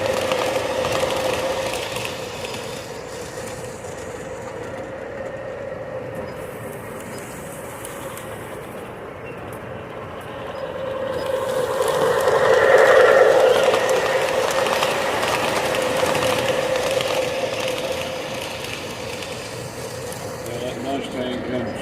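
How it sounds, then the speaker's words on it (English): Toy trains run along a track, making a steady rolling, rattling rumble that swells and fades over about twenty seconds while people talk over it. "and these are toy trains."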